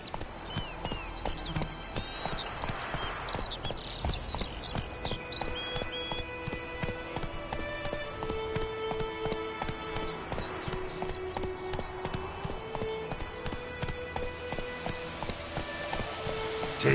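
The horse Roach galloping in the video game The Witcher 3, with rapid, steady clip-clop hoofbeats that run throughout, set against game music and ambient sound, with no voices.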